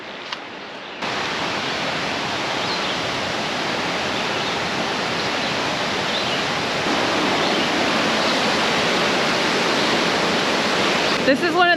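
A big waterfall in the Arkansas wilderness roars as a dense, steady rush of water that stays loud and close from the first second onward, with a faint knock near the end.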